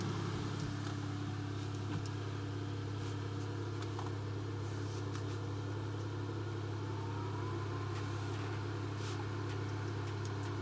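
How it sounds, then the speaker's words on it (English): An idling car engine hums steadily and evenly close by, with a constant low drone and faint clicks throughout; no voices. "So let's start up the car."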